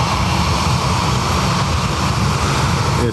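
ATR turboprop airliner departing Dublin Airport bound for Edinburgh, earlier hit by a technical issue; a steady, loud broadband engine roar holds throughout with a strong low rumble and no pause.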